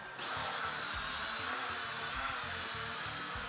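A small quadcopter drone whirs steadily as it lifts off and climbs, a dense high buzzing hum close by with a faint pulsing low throb underneath, no voices.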